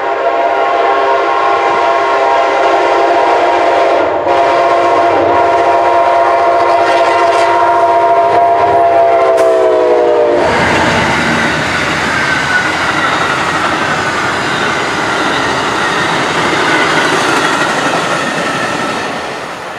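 The southbound Amtrak P091 Silver Star passenger train roars past loudly, its horn sounding long steady tones before the heavy rumble and clatter of cars takes over.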